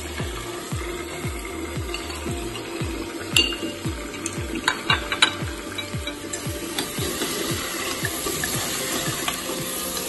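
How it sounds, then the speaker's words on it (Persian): Onion stirred and sizzling in a hot pot for chicken soup with wheat and chickpeas, steady frying hiss with scraping spoon strokes repeating rhythmically close by, no talk. "یکی دو دقیقه با پیاز میکسریم بالای حرارت."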